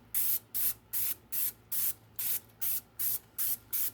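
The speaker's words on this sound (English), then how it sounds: "It says to spray with vegetable oil." Vegetable oil sprayed from a can into a Twinkie maker, about nine short even hissing bursts in a steady rhythm, close and clear with a faint hum underneath.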